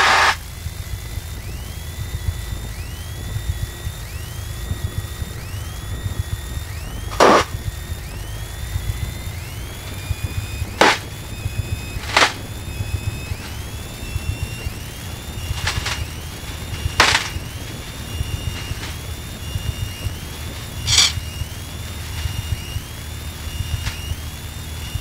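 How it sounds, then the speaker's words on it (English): Cessna Skyhawk light aircraft engine droning steadily through a fully loaded soft-field takeoff run in Alaska, a continuous low hum with a few sharp clicks and transient bursts over it. "We are taking off runway 34, departure to Homer, Soldovia."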